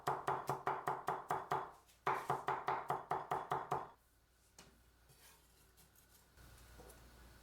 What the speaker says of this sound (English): Finely chop 1 onion, chop 4 cloves of garlic